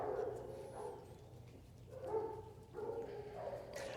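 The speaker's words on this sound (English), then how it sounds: "Again, not my dogs." Several dogs bark in short bursts outdoors, somewhat distant, with pauses between the volleys and a steady low background hum.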